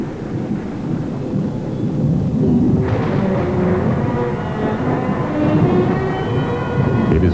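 Thunderstorm with heavy, continuous rumbling thunder and steady rain, a loud roar that swells around the middle with a crackling burst, without any voices.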